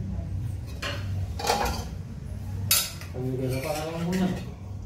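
Steel pots, plates and cutlery are washed after a meal in a village household. Irregular close clanks and scrapes continue throughout, while a voice talks briefly near the end.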